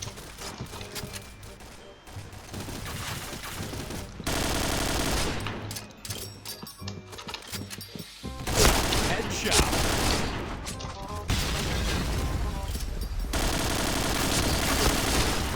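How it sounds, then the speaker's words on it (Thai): Dense, continuous barrage of game explosions and gunfire, loud and chaotic with rapid bursts layered over each other throughout. "แม่งระเบิดโคตรเยอะเลย"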